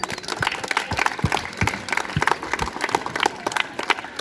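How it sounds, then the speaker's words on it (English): Students at a school morning assembly clap for a quiz winner, a scattered, moderately loud round of applause with individual claps standing out. "Please give him a big round of applause"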